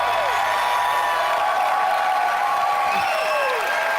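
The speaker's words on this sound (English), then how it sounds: "we hear the cheering and clapping" Steady applause and cheering from a press conference audience at E3 2019 fill the whole stretch, dense and continuous.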